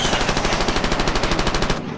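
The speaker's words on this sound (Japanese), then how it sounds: "那覇 DC、 こちらダッグ2、警告射撃を受けた。" Warning gunfire in the war film Aircraft Carrier Ibuki: a loud, close, rapid automatic burst of evenly spaced shots lasting under two seconds, then fading into a lingering rumble.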